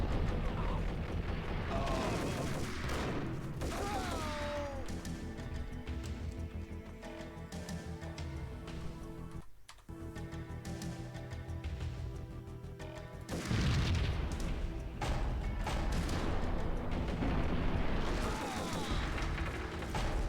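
Gunfire in the Max Payne 3 video game, booming shots and bursts running through a dense game soundtrack with music, brief dip to near silence midway, then loud again.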